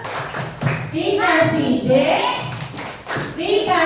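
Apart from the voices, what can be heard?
classroom children applauding a group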